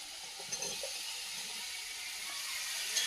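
Cut potatoes, taro and a whole tomato sizzle in a spice mix in a hot pan, giving a steady, faint hiss with a few small pops and clinks.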